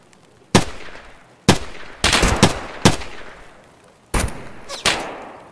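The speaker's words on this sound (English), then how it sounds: "Whoa, I just got sniped at." Sniper rifle shots in Escape from Tarkov ring out one at a time in a rough rhythm, six loud, sharp cracks spaced about a second apart, each trailing into a short echoing decay.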